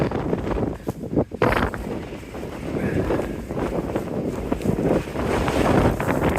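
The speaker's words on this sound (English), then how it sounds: "It is very windy and cold." Strong wind roars and buffets the microphone continuously on a cold mountain trail near Max Patch, a loud rumbling gusty noise with no voices.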